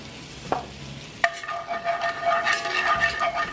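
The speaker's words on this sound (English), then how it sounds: "Stir your roux around." Flour roux stirred in a cast iron skillet for a cheese sauce, with close scraping and light sizzling, a sharp clink of a utensil and a steady frying hiss.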